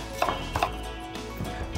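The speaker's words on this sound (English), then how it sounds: "Just cut off a chunk and cut it into a julienne." A kitchen knife cuts a chunk of fresh, unpeeled ginger into julienne on a board, giving several crisp, close chops in an uneven rhythm with no talking.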